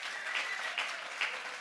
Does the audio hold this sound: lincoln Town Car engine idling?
no